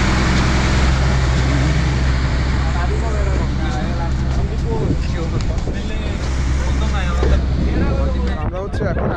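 A passenger launch boat on a lake in Rangamati sends out a steady low engine drone mixed with wind and water rush, while voices talk over it throughout.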